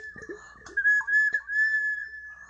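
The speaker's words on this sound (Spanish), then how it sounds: "botella silbato" An Andean whistling bottle, a traditional ceramic instrument, gives a steady, thin, sustained whistle tone with a few soft knocks and breathy sounds around it, fairly quiet overall.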